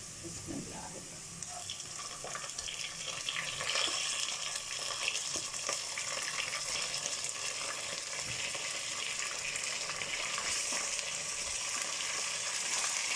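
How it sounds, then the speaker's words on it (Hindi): Raw chicken dropped onto light golden onions frying for a masala pulao, giving a loud, dense, continuous sizzle with stirring scrapes throughout and no talking. "अब इसमें हम अपना चिकन ऐड कर देंगे।"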